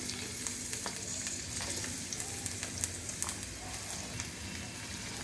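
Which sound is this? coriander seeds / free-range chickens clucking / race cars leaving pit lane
coriander seeds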